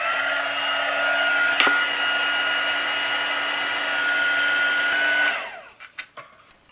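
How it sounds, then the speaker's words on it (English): A heat tool blows steadily while setting embossing powder, a loud constant whirring hum that runs for about five seconds, then cuts off, followed by a few small clicks and taps nearby. "I'm going to go ahead and heat set this"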